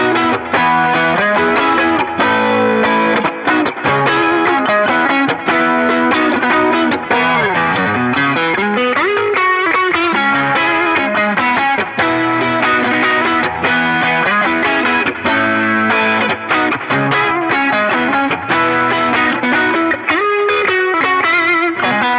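A distorted electric guitar plays a steady rhythm part through a dirty Dumble-type tone, dense and continuous at full volume for the whole stretch, with no talking over it.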